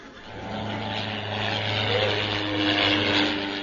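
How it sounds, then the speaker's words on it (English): Fairey Gannet aircraft of 824 Squadron swooping low as a radio comedy sound effect, a loud, steady propeller-engine roar that swells slightly as it passes, heard alone. "the fairy gannets of 824 Squadron swoop low over the pudding"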